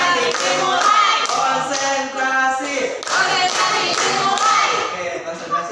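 A classroom doing tepuk konsentrasi, the group clapping in short rhythmic bursts while children's voices chant along, close and lively.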